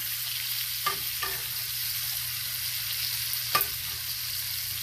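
Ribeye steak frying in a pan while hot butter is spooned over it, a quiet steady sizzle with a few soft clinks and spoon taps standing out, heard alone without talk.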